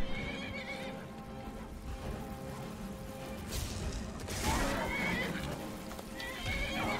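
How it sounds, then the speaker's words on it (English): A horse in the Skyrim video game neighs loudly midway, with hooves clip-clopping under a busy bed of game combat sounds, and no one talks over it. "And now that horse will kill her."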